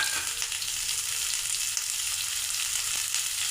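Two medium onions, sliced lengthwise, frying in a pan for a paneer dish, giving a dense, even sizzle heard up close with a faint stir or two.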